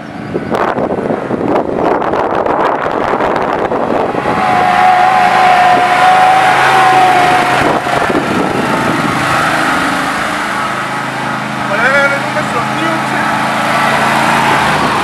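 Husqvarna park rider ride-on mower driving, a steady engine drone with wind buffeting the microphone, close and loud throughout, with someone talking over it.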